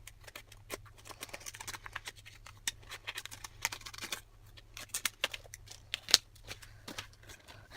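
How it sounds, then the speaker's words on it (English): Scissors snipping through the plastic tray of a Kracie Popin Cookin ramen candy kit, with a run of quiet, irregular clicks and crisp cuts close by in a still room. "I'm just gonna cut this up more."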